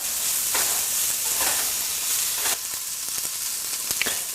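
Garlic, chives, oregano and mushrooms sizzle steadily in a hot pan, a close, moderately loud frying hiss with occasional stirring scrapes and no voices.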